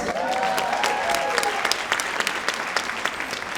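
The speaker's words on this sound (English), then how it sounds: "Can you clap for yourselves?" An audience at a conference welcome session claps for a few seconds, a moderate patter of hands under a fading voice at the start, fairly close and even.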